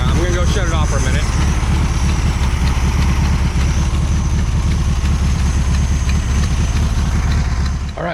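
A car engine, still slightly cold, idles just after being started. The steady, loud low rumble holds evenly for several seconds close to the listener and eases off slightly at the very end.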